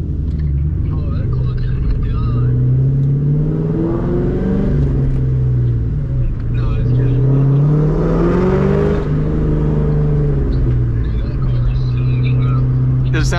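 A car engine drones steadily and close while driving with the e-brake on at night, rising and falling in pitch, with people talking over it throughout.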